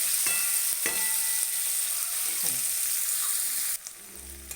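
Chopped onions fry in a pan while being browned lightly for a village-style soybean dish, giving a steady close sizzle with a few scraping stirs; the hiss drops off near the end.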